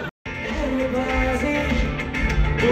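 Dense roar of a packed, overheated crowd pushing in at an outdoor concert, continuous loud chatter and shouting voices blending into a steady wash with no single speaker standing out.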